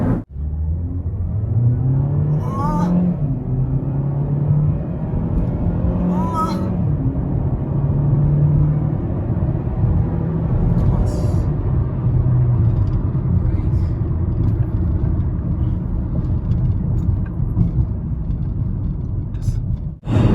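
A 2016 Kia K5 SX 2.0 Prestige accelerating, a steady loud engine rumble and whir heard from inside the cabin with rising tones through the run, while a person talks over it.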